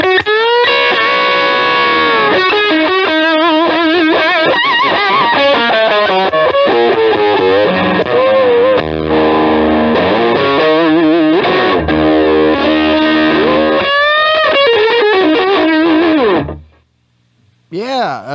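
Electric guitar played through a JHS push effect pedal, loud heavily distorted chords and sliding notes ringing continuously, then cutting off abruptly near the end with a brief low hum.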